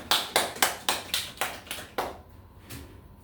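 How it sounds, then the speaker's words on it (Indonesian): Schoolroom clapping for a classmate during a math lesson: a string of about eight sharp, evenly spaced claps in a quick rhythm, close and clear, then tapering off into quiet room tone. "tepuk tangan untuk Mbak Emi"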